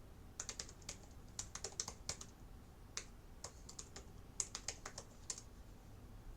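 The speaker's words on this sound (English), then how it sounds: "Hold on, typing." Typing on a computer keyboard, quiet close clicks in quick irregular bursts with short pauses, over faint background hum.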